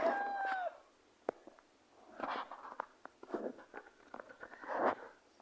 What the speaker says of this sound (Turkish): Tavuklar geliyor.